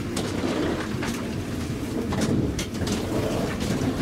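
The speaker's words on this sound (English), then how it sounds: "It's raining outside already." Steady, dense rain pours down without a break, filling the space with a continuous hiss and patter; no voices are heard.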